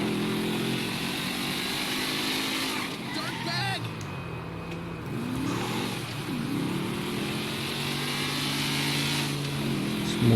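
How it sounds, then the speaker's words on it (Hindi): Sports car engine in the GTA 5 video game, a continuous droning hum with shifting pitch sweeps as it accelerates, heard under someone talking. "बस इसकी आवाज़ स्मूथ नहीं है, क्योंकि स्पोर्ट्स कार का जो इंजन रहता है"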